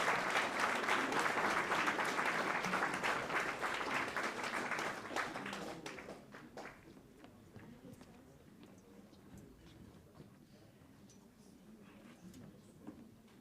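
Cinema audience applauding loudly with dense, sustained clapping for about five seconds, then fading to scattered claps and quiet murmur.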